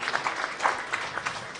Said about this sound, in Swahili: tumpigie makofi mazuri tafadhali